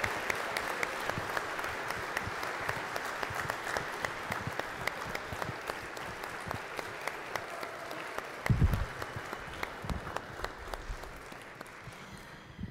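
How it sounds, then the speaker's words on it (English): Sustained applause from a church congregation at a Sunday worship service, steady dense clapping for over ten seconds that thins and fades toward the end, with a brief louder burst midway. "if we could just give her a round of applause"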